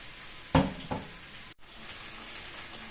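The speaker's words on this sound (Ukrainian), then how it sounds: "Так, оце висипаю і буду смажити" Potatoes drop into a hot frying pan with a soft thud, then a steady gentle sizzle of frying continues.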